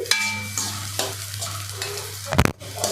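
Beetroot roasting in an open pan over medium heat, a close sizzle broken by scraping stir strokes and a sharp clatter near the end, with no voices.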